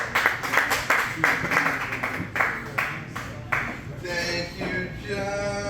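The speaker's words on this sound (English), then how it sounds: "Ladies and gentlemen, please give a warm round of applause for Mr." Comedy club audience applause as a stand-up comic is introduced at Marina 84, a burst of clapping with distinct sharp claps early on that thins out, overlapped by voices toward the end.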